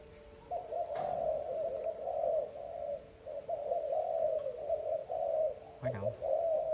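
A young spotted dove, a Malaysian-type cooing bird, gives a steady run of soft repeated coos, close and fairly quiet, with brief chirps over the cooing.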